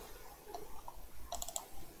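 Two quick, faint clicks close together, like a mouse double-click, over a quiet room with a few other light taps.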